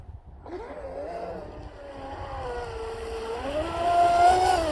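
A Deltaforce 35 fast electric RC boat on a 4S lipo pack runs on water with a rising and falling whine that swells as it speeds past, growing louder toward the end.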